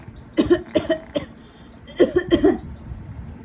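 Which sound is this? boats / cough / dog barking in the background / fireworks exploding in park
cough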